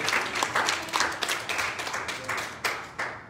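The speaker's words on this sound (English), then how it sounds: "Would you clap your hands up to the Lord?" Church congregation clapping hands together in worship during a bishop's sermon, a dense, steady burst of many hands with rhythmic accents, fairly close and loud, no voices over it.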